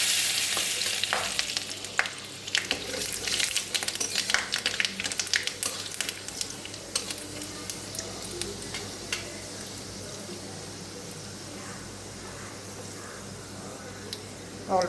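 Whole garam masala dropped into hot oil for tempering crackles and sizzles, dense crisp popping that is busiest early and settles into a softer steady hiss, close and continuous.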